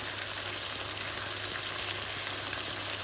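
Pork rica frying in a pan while being stirred, a dense, even crackling sizzle that holds steady throughout with no voices, close and continuous.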